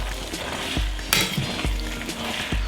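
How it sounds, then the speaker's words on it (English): Pasta and shrimp are stirred through a creamy tomato sauce in a pan, a steady sizzle with several soft utensil scrapes and clicks against the pan at irregular intervals, close and alone. "So now I'm just stirring it"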